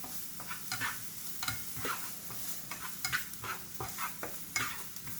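Onions sweat in a frying pan for a country-style breakfast, sizzling steadily close by as repeated stirring scrapes and clatters through the sound, with no speech.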